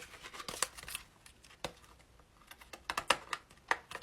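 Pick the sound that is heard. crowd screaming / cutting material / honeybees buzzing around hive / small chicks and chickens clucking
cutting material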